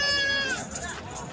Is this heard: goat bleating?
yes